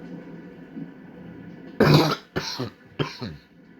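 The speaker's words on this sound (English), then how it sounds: "I'm coughing" A man with a head cold coughs three times in close succession, a harsh first cough followed by two shorter ones, after a low background murmur.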